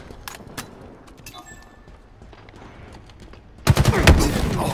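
Burst of rapid gunfire from a Halo Infinite tactical slayer match, loud and dense near the end after a quieter stretch with a few sparse sharp shots.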